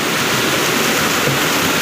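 Floodwater from heavy landslide rain rushing down a road, a dense, steady broadband roar of churning water, loud and close with no pauses.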